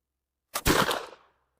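One sharp, loud shot from a Kentucky muzzleloader rifle, a single blast with a short decaying tail and no voices.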